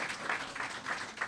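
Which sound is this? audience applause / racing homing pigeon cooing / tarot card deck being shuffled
audience applause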